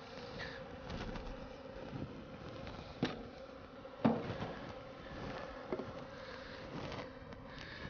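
Honey bees around a hive being shaken out while two hives are united give a steady, low buzzing drone, with a few soft knocks and bumps from the handling.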